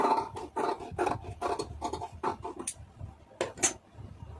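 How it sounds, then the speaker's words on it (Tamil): Scissors snip through lining fabric for a blouse in a series of close, crisp cuts, several quick strokes in a steady rhythm and then a few more after a short pause. "இப்போ இந்த அளவு அப்படியே கட் பண்ணி எடுத்துக்கிறோங்க"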